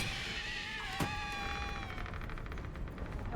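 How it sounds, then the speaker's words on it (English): A cat meows once in Baldur's Gate 3, a rising then falling cry over a steady game backdrop of ambient noise, with a sharp click partway through; no purring stands out. "There's so much purring going on here."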